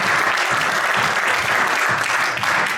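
An audience claps steadily and densely throughout, a continuous wash of many hands applauding at close range with no pauses.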